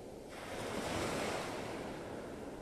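Ocean surf washes onto Vanderbilt Beach in North Naples, Florida. A soft, steady wash of waves and wind swells gently and then eases, with no voices.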